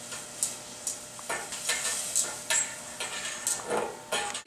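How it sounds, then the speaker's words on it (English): A spoon or whisk working through a cream and maple mixture heating in a pan, giving repeated clinking scrapes against the metal every half second or so over a faint sizzle, close and without voices. "Continuously stir the mixture so that the cream does not scald, which means to stick to the pan."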